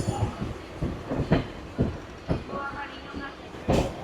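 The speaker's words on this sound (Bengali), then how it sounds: "দূরে একটা এক্সপ্রেস ট্রেন আসছে" An express train on the line near Naihati, running from Lalgola toward Sealdah, rumbles close by with rhythmic clickety-clack wheel beats over a steady roar.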